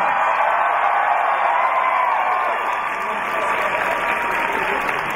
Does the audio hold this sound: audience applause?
yes